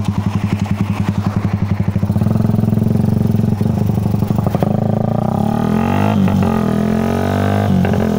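A motorcycle engine close by, first a fast rhythmic idle putter, then revving up into a loud, sustained drone with brief throttle blips.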